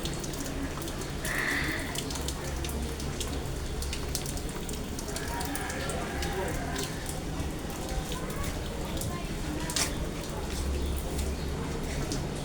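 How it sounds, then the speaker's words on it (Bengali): Light rain falls outdoors in scattered drops near a gate under a cloudy sky, a soft, steady patter with occasional sharper drip ticks close by. "বাইরে আসলাম, তো ফোঁটা ফোঁটা বৃষ্টি হচ্ছে"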